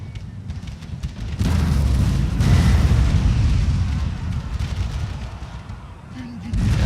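Grapeshot artillery in a Napoleonic battle video game, the Battle of Alexandria between France and the United Kingdom: deep rolling booms and overlapping cannon volleys swell into a continuous thunderous battle din.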